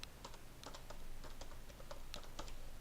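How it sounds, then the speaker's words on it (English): Someone types a password on a computer keyboard, producing quiet, close, irregular key clicks in short clusters against a low background hum. "it requires me to type in"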